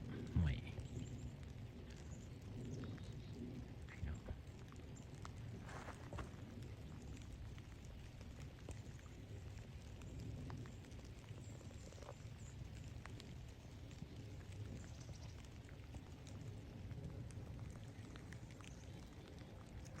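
Steady rain falls through a forest on a November hike, a dense, even hiss of drops on leaves and ground that carries on unbroken the whole time with no voices.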